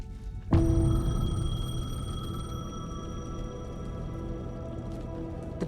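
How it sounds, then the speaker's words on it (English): A payphone in the video game Alan Wake II starts ringing abruptly after a moment of quiet, a sustained electronic tone that holds steady and slowly fades in the eerie, empty surroundings. "The payphone was ringing."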